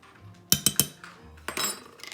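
A metal spoon scraping and clinking against a bowl while cornstarch is stirred into pork dumpling filling, three sharp taps in quick succession followed by softer scrapes and clinks, close and alone.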